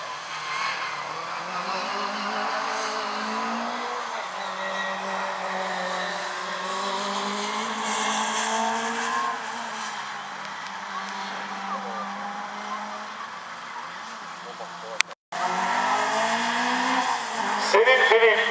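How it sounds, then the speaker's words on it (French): A Peugeot 205 familiale race car launches onto a slalom course, its engine holding a loud, close, steady drone with rising and falling pitch, then cutting out briefly near the end before roaring again. "Céline Philippe vient de s'élancer au volant de la 205 familiale."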